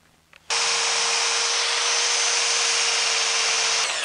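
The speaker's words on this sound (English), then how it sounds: "I'm just going to wear it away with some very coarse grit sandpaper" Coarse 60-grit sandpaper grinding steadily against a wooden bowl decorated with epoxy and pegs, likely spinning on a lathe; a loud, even, continuous hiss starts abruptly after a short quiet moment and holds to the end.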